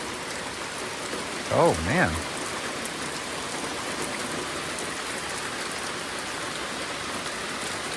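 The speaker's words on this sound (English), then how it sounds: "I am sure this rain is very welcome by the grass." Steady rain falls on grassy land in Texas, an even, close hiss of drops throughout, with a brief spoken exclamation early on.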